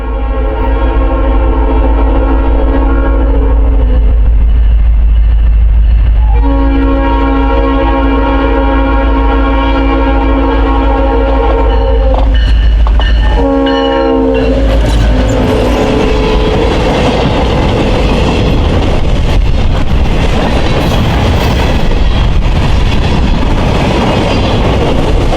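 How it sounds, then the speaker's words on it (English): A South Shore freight train led by two GP38-2 diesel locomotives passes close by, opening with loud sustained horn blasts over a deep engine rumble, then giving way to steady wheel clatter and rolling noise as the cars go by. "to shoot Pool Freight 10 with two GP38-2s leading the train west"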